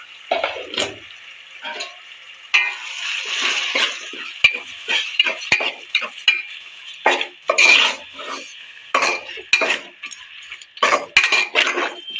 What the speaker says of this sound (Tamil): பேஸ்ட் போட்டுக்கிடுவோம் ஒரு ஐம்பது இஞ்சி பூண்டு பேஸ்ட்டு